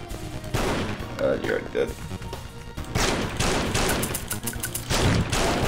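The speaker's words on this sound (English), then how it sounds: "I forgot that shotguns actually had range in this game." Shotgun blasts in the zombie arena game Thing Thing Arena Classic, loud repeated gunfire bursts in quick succession across the clip, with a voice talking briefly over it.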